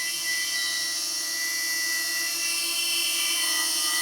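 A small DJI camera drone flying nearby: a continuous high-pitched whine with steady tonal buzzing from the spinning propellers, loud and unbroken, with no voices.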